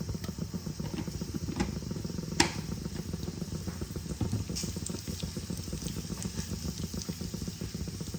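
Whole cumin seeds tempering in hot oil for ghugni, a dense run of tiny crackles and pops over a low sizzle, with one sharper tap of a utensil partway through.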